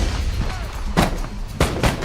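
A few sharp gunshots, about three distinct reports spaced apart, fairly loud against a rumbling background.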